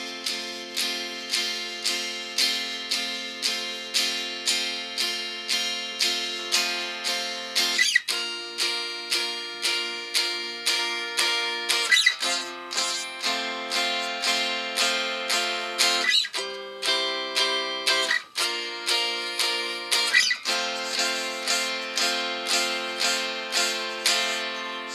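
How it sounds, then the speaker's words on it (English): Barre chords on a guitar are strummed through a full 12-bar blues in F, with a steady rhythmic strum and chord changes at regular intervals. It is played clearly and alone, with no voice over it. "So the whole 12 bars would sound something like this."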